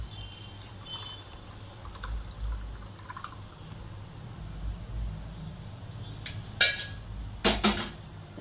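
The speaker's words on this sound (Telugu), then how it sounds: "వాటర్ కొట్టుకుంటున్నాను" Boiled ajwain and clove water is poured off after simmering, giving a soft, quiet trickle in a still room, with a few sharp clinks of a vessel near the end.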